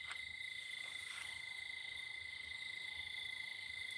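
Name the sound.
crickets and tree frogs chirping outdoors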